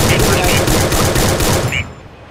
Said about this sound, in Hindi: गोली चल रही है